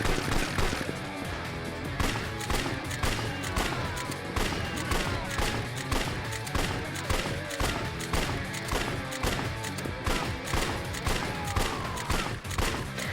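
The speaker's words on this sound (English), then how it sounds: "Oh shit, they're shooting back?" Dense pistol gunfire in the video game Yakuza 4, with rapid overlapping shots from several guns exchanged in a loud, continuous firefight lasting throughout.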